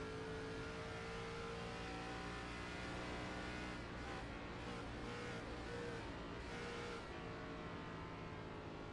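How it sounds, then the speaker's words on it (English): A simulated race car engine in iRacing at Nashville Superspeedway drones loudly and steadily, then stutters with a few uneven dropouts as it runs out of fuel at the finish line, before carrying on under a constant roar. "The engine is sputtering. He runs out of fuel as he crosses the line."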